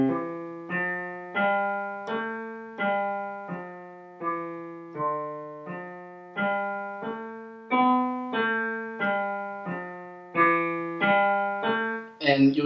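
Left-hand finger exercise on piano: evenly paced single notes struck one after another, slowly climbing up the keys, heard clearly and alone at close range.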